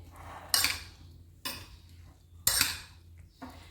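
Okra being stirred together with other ingredients in a pan, a spoon scraping and clinking against the metal in four separate strokes with short quiet gaps between them.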